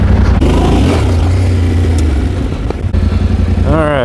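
Yamaha T7 adventure motorcycle running on a dirt practice area, a steady close engine drone with a low rumble, loud and continuous, without talk.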